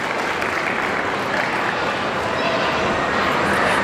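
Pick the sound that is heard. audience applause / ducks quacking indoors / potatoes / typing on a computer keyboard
audience applause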